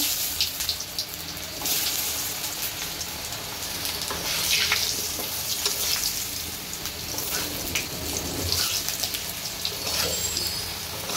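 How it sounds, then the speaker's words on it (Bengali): Potatoes frying in a pan with cumin seeds, a continuous hissing sizzle close by, with intermittent clinks and scrapes from stirring and no speech. "আলুটা ভেজে নিব"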